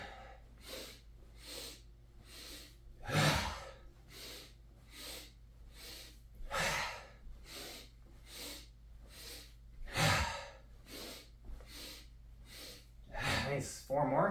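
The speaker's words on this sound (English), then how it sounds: "Inhale, inhale, inhale, inhale, inhale, inhale, all the way." Deep, forceful inhaling breaths during a breathing exercise come in a regular rhythm of sharp sniffing pulls, close to the microphone, with a few louder gasps.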